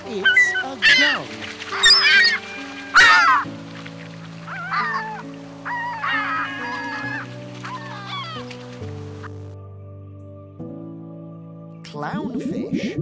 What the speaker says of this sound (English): Gull. It's a gull.